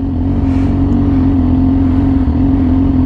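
A Yamaha R6 motorcycle fitted with a loud aftermarket exhaust holds a steady, close, heavy engine drone for the whole stretch, low and continuous with only slight swells and no clear rev peaks.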